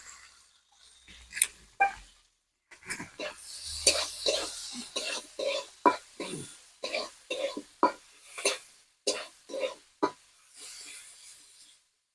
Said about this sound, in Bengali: এবার পেঁয়াজগুলো ভাজা ভাজা হয়ে গেছে